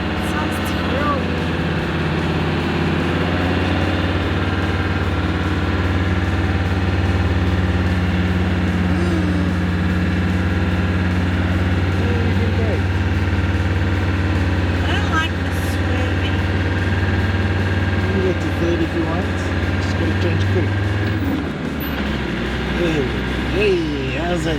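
A 4x4 engine revving on beach sand at Sodwana Beach drones steadily at a low, rough pitch, rising slightly at moments, with people talking over it until it drops off near the end.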